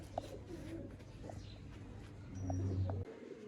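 Sialkoti pigeons coo softly in low, repeated murmuring calls, with one deeper coo swelling near the end, set against faint background rustle and small clicks.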